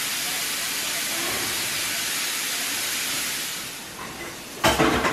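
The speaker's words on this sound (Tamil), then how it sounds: "கொஞ்சம் கருவேப்பிலை போடட்டாமா" Curry leaves hitting hot oil produce a steady, hissing sizzle that eases off near the end before a sharp, loud spurt of spattering.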